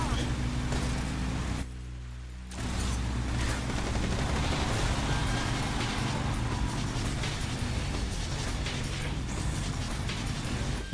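Dense, continuous gunfire from Metal Gear Solid Delta fills the scene as a loud, unbroken wash of shots and noise, dropping out briefly for about a second early on.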